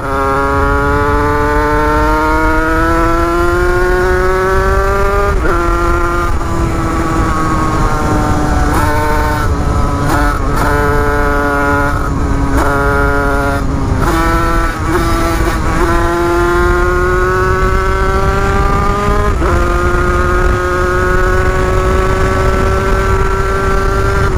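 A close, loud two-stroke engine note from a Beta EN 86 motorcycle underway, rising and dropping in pitch with repeated throttle changes and brief lifts, running continuously without any voices.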